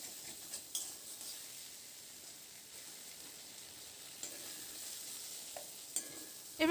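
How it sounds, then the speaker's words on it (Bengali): Potato and eggplant fry in a wok (kadai) in mustard-oil-style Bengali cooking, a steady broadband sizzle under intermittent scraping stirs and a few sharp utensil clicks near the end, close and fairly quiet, no talk. "আলু আর বেগুনটাকে মিনিট 3-4 সময় ধরে নাড়াচাড়া করে দেখুন বেশ লালচে করে ভেজে নিয়েছি"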